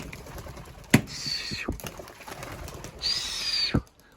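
Racing pigeons take off in bursts of wing flapping, with a couple of sharp clattering wing claps and a few soft coos, outdoors at fairly close range.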